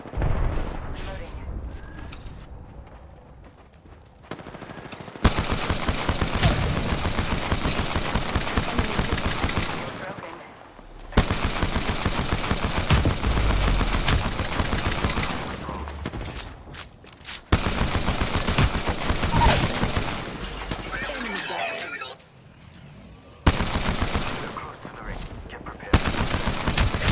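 Video game gunfire from a battle with a closing ring, loud sustained automatic bursts repeating over and over, with short pauses between volleys.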